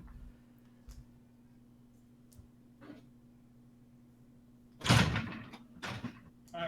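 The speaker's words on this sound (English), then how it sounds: "I gotta close the door." A door being shut indoors during a live gaming stream, a sharp loud thump followed by a second softer knock, with faint scattered handling noises before it over a steady low hum.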